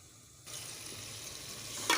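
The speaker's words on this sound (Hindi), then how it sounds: "अब इन सब चीज़ों को अच्छी तरह भून लेना है।" Spices for tinda gosht sizzle and fry steadily in a pan, a continuous close crackle with a brief louder stir near the end, no voices.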